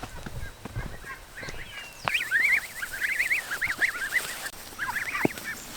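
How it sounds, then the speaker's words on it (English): Geese honk in a garden, a run of loud, close, wavering calls that start partway through and come in quick repeated bursts over a faint outdoor background. "It's time for the geese's turn in the garden though."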